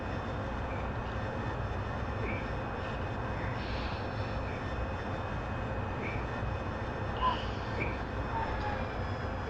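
A steady, continuous roar of an AV-8B Harrier jet engine in flight holds an even level throughout, a broad unbroken drone with faint tonal whine layered on top and no speech.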